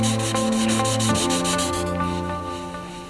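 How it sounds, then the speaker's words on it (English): A cabinet frame's finish is sanded down by hand, a close, steady rubbing scrape with tonal ringing over about three seconds. "added a couple of coats which were feathered out into the surroundings, and then sanded down"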